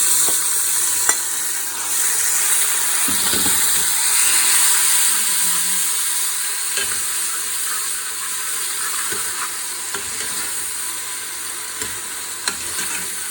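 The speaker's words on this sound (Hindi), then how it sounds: "टमाटर मैंने शामिल कर दिए और इनको हल्का सा भूनेंगे हम" Tomatoes frying with browned onions for a gajar aloo methi sabzi, a steady loud sizzle with hissing steam and occasional scraping stir strokes, no talk.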